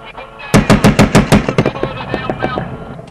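Rapid bursts of gunfire ring out close and loud, a string of about six sharp shots followed by quicker, fainter shots that trail off.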